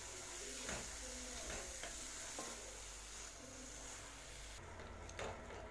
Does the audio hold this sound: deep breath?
no